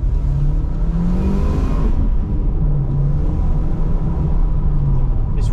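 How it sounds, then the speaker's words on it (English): An Audi TT engine pulls hard toward the redline under full throttle, a loud, continuous drone whose pitch climbs steadily before easing back slightly. "when you put your foot down like this and go all the way up to the red line"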